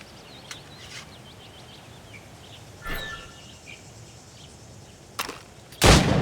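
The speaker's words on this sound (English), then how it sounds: "Shoot these targets." Gunshots fired at practice targets in Assassin's Creed Rogue: a few isolated cracks spread over several seconds, the last one loudest, set against a steady outdoor bed of birdsong and insects.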